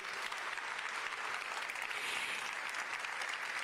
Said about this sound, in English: Let's give another round of applause for these talented youth.